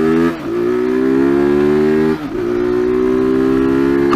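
A TVS Apache RTR 200 motorcycle at highway speed makes a steady, loud engine drone that briefly dips and recovers twice as clutchless upshifts go through, with wind roar underneath.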